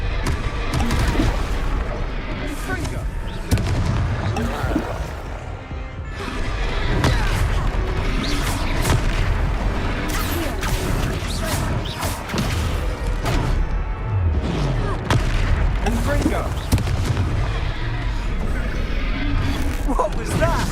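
Blasts from the Confringo fire spell in Hogwarts Legacy, a fantasy video game: a dense, loud run of booming explosions and crashes under game music, while a voice shouts the spell and other characters speak.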